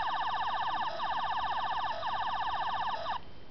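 An Eleventh Doctor sonic screwdriver toy gives off a loud, close electronic warbling tone, pulsing in three repeated cycles, before it cuts off abruptly near the end.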